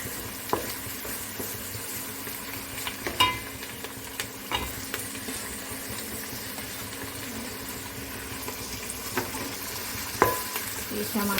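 Tomatoes and ginger paste, with a little dal and turmeric, fry in a pan for a fish pulusu while a spoon stirs them. A continuous close sizzle runs under occasional scraping and clinking stirs, with no talking.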